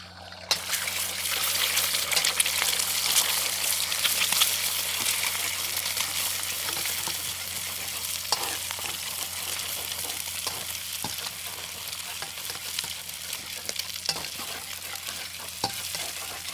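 Steady hiss and crackle of egg frying in hot oil in a pan, a dense continuous sizzle that stays fairly even throughout with no talking.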